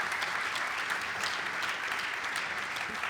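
Steady, dense audience applause at a live talk event, continuous and fairly loud from start to finish with no voices over it.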